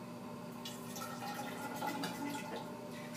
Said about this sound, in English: I'm just going to very slowly and carefully pour this acid into this graduated